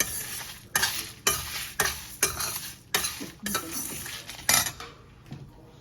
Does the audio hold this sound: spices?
yes